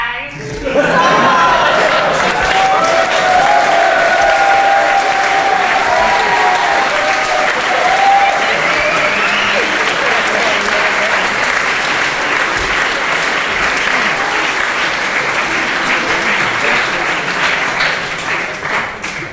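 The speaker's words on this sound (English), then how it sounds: "thanks for the round of applause" A theatre audience at a stage show breaks into sustained, loud applause lasting many seconds, dense and even before slowly tapering, with a few voices and laughs mixed in.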